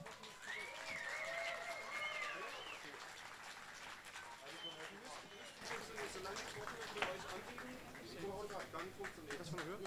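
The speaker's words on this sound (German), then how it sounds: "Bitte einen ganz großen Applaus für Natascha Bartz." Sustained applause and crowd noise from an outdoor audience at the Hanfparade 2023 cannabis rally in Berlin, greeting speaker Natascha Barz. A voice talks over the dense, steady clatter of clapping throughout.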